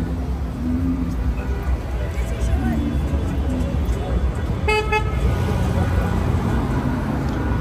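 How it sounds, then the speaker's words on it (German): Car horns toot on a busy Berlin street amid traffic noise and crowd babble, with one short honk sounding clearly partway through. "Alle hupen mir zu, wollen Hallo sagen."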